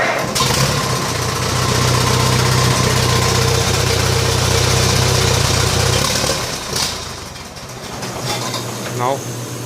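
Restored tractor engine running loud and rough, the throttle pulled up a little, a steady mechanical drone that eases off near the end, with brief clanks.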